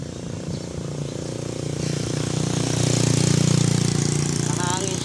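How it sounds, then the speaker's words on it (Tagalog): Road traffic rumbles past a roadside fishing spot, a low engine drone that swells as a vehicle nears and then holds loud and close, with a faint voice briefly audible. "pasensya na sa mga kung maingay kasi nasa tabing karsada tayo"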